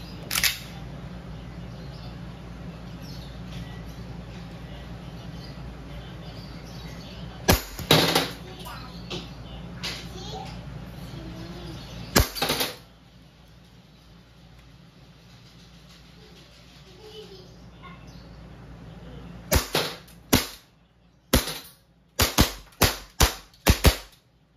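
A WE 1911 MEU full metal gas blowback airsoft pistol fires, sharp snapping shots first spaced out, then a rapid string of closely spaced cracks near the end, with mechanical handling noise and a person speaking early on.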